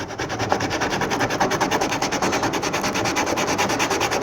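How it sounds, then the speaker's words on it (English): Hand sanding of HDPE plastic on a Sun Dolphin kayak with 80 grit sandpaper: a steady, close, continuous rasping scrape with quick rhythmic strokes throughout, no talking. "start by using some 80 grit sandpaper and just sanding the area that you're going to"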